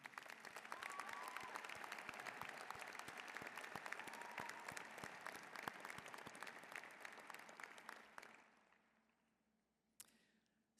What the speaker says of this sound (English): Join me in applauding these students for their success.